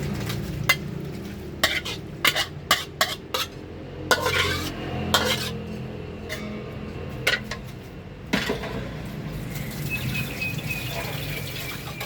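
Ingredients for stir-fried basil chicken clatter and scrape into a hot pan, with sharp metallic taps of a utensil against the pot over a steady frying sizzle, no voices.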